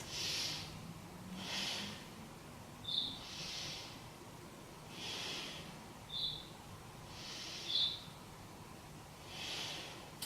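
Slow, deep breaths during a beginner yoga stretch, each inhale and exhale a soft airy rush repeating at a steady pace roughly every one and a half seconds, close and quiet with no talking.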